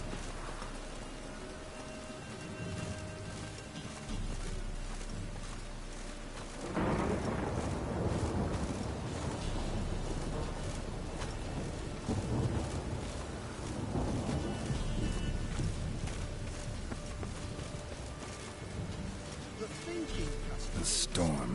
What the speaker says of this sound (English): The storm, damn it.